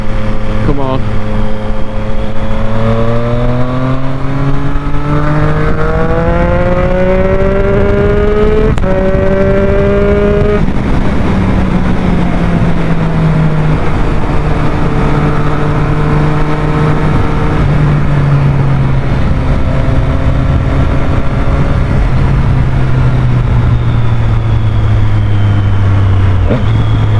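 A motorcycle engine runs steadily on twisty roads, its pitch rising and falling with repeated upshifts and slowing as it leans through bends, loud and close with wind rush throughout and a faint voice now and then.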